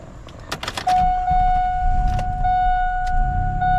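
A Pontiac Grand Prix GT with a failing MAF sensor is started after a few clicks and clatters of keys, then settles into a steady, close engine idle with a whining tone.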